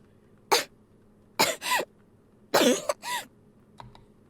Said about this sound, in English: Yu coughs again